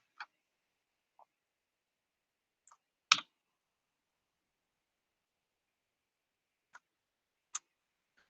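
Computer keyboard keys clicking faintly and sparsely, a handful of isolated taps spread out with long quiet gaps between them, one slightly stronger click in the middle.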